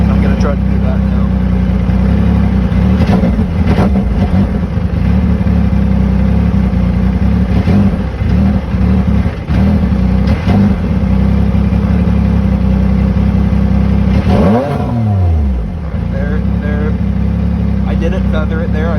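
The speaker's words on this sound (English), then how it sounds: "if I let off before it dies and then basically feather the throttle, sometimes I can get it to build RPM" A 2020 Yamaha YXZ1000R with a GYTR turbo kit and a running fault, its engine loud and close, idling roughly with throttle blips and stumbles, then a rising rev sweep near the end as RPM builds.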